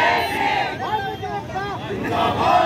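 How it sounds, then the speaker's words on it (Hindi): A protesting crowd gathered outside a district collectorate in a sit-in demonstration: many voices shout and chant together in loud rising calls, close and dense, with wind buffeting the microphone. "जिला कलेक्ट्री के बाहर जमा हुई ये भीड़"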